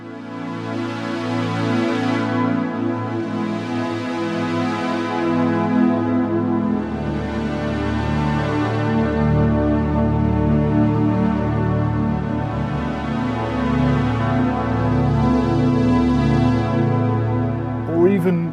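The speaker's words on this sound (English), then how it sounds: "So for instance we can have some really nice lush big pads." Lush, big synth pads from a Korg Opsix FM synthesizer swell and hold in long sustained chords with slow, wavering brightness, full and steady throughout with no voices.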